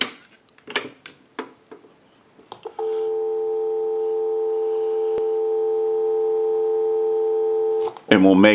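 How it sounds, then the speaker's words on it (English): A steady continuous dial tone from a Western Electric single-slot payphone on a line out, held unbroken for about five seconds after a few clicks and handling knocks, then cut off by a sudden burst of noise. "Go ahead and give you some dial tone."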